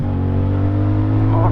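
A CFMoto 450CL-C motorcycle engine drones at a steady low pitch while the bike accelerates on the road, loud and close throughout, with wind noise mixed in.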